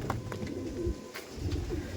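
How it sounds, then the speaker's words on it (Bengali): Pigeons coo in low repeated notes among a flock of Andhra pigeons kept by a breeder, with scattered chirps and rustling close by and no voices. "দেখুন দেখুন পায়রা দেখুন"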